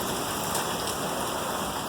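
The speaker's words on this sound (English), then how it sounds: "And it's raining like crazy." Heavy rain pours down steadily and loudly outdoors, a dense unbroken hiss of drops close by with no voices, the downpour falling during work on a 1963 Oldsmobile Cutlass F85 in a garage.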